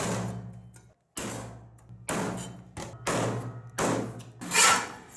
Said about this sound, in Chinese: 排骨改刀切成小块